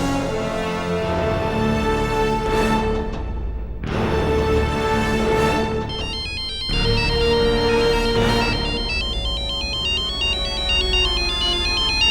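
An unanswered phone rings loudly and close by, its electronic ringtone melody repeating in bursts with brief pauses between them, with no talking over it.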